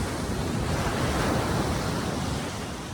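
Ocean waves at high tide washing against a rocky coast, a steady loud hiss of surf with wind noise and no talk.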